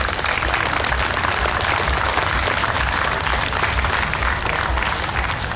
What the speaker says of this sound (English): we think it's those guys that deserve a real round of applause this afternoon